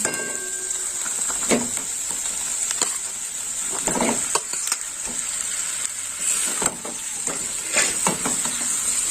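Fried fish heads go into a pan of spices and sizzle loudly and steadily, with light scraping and clinking of stirring throughout and no talk.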